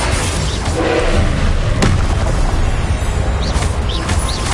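Confringo blasting spell cast in a Harry Potter video game: a loud, continuous booming rumble of explosions with a sharp crack about midway, and no voices.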